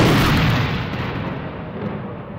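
A deep, rumbling boom from the demolition blast on the Broadway Bridge, heard from a distance, starts loud and slowly fades into a long, low roll.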